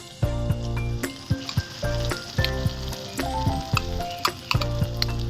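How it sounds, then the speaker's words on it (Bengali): Maan kochu (giant taro) paste ground with green chilli sizzles in hot oil, a loud frying hiss with utensil clicks, heard together with strong tonal, pitched sounds throughout. "সম্পূর্ণ মানকচু বাটাটা দিয়ে দিয়েছি তেলের মধ্যে"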